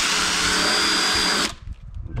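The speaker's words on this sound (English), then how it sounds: "So we'll just drill that." A power drill whines loudly at high speed for about a second and a half while drilling a hole for a diesel heater install in a 14ft Jayco Journey Outback camper, then cuts off abruptly, leaving faint handling noise.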